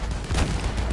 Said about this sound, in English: I'm shooting over there right now